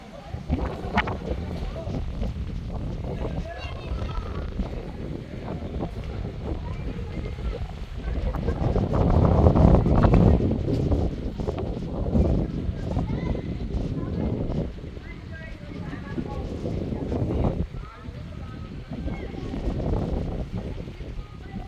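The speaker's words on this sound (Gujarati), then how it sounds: "પવન બહુ જ છે બહુ જ અવાજ આવે છે" Gusty wind buffets the microphone in a loud, rumbling roar that swells and eases, with faint voices beneath it.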